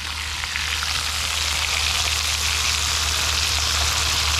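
Steak frying in a pan over an outdoor campfire, giving a loud, dense, continuous sizzle with a faint low hum beneath, steady from start to finish with no voices.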